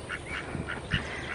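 Ducks quack in a new enclosure, a few short nasal calls spaced through the moment, moderately close with light background rustle.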